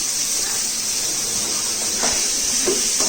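Three chopped onions go into a hot pan for Malaysian chicken curry, giving a loud, steady hiss with a few brief crackles and stirring sounds near the end.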